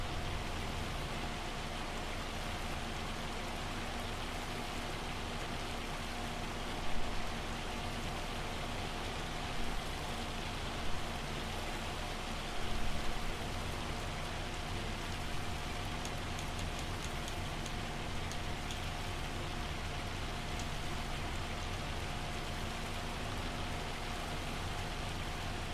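Hailstorm rain in Farming Simulator 25, a dense continuous hiss of rain striking surfaces with a steady low hum underneath and a few brief thumps, with no talking.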